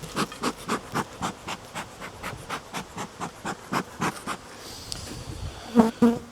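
Angry honeybees swarm around an open hive, a close, pulsing buzz that rises and falls in quick regular waves, with a few faint handling knocks near the end.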